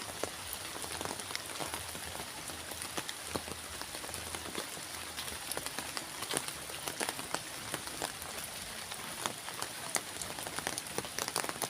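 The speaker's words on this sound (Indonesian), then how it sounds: "cuaca lagi hujan ya" Steady rainfall near rice fields in a remote village, with dense, crisp drops pattering on nearby surfaces, a constant hiss filling the background throughout.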